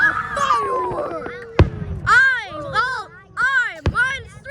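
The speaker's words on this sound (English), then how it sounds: "I am watching the fireworks right now." Two sharp Fourth of July firework bangs burst out a couple of seconds apart, loud against a person's excited talking that runs through the whole stretch.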